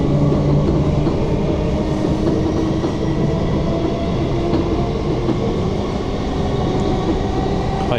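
A passenger train on the Glasgow Central to Paisley Canal line accelerates, heard from inside the carriage as a loud continuous rumble and rising motor drone with faint track clatter, no talking.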